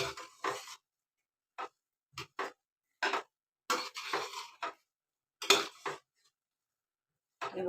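Spoon scraping and knocking in a pot while stirring cooked rice with coriander, a series of short, separate clinks and scrapes with quiet gaps between them.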